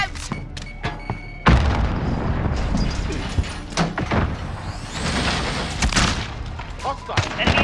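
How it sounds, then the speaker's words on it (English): Grenade blasts and rattling gunfire erupt during a Call of Duty Modern Warfare team deathmatch on Xbox One, a loud burst of booms and thuds starting early and continuing dense and busy throughout. "Grenade out!"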